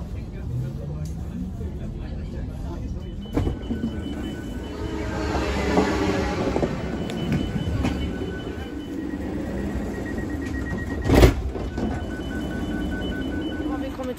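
Steady rumble and hiss of a Stockholm commuter train in motion toward Älvsjö, with a brief sharp screech partway through and voices murmuring faintly in the background.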